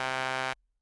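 A dense, buzzy synthesized tone with a phaser effect and LFO modulation holds steady for about half a second with a sweeping, swirling quality, then cuts off abruptly into silence.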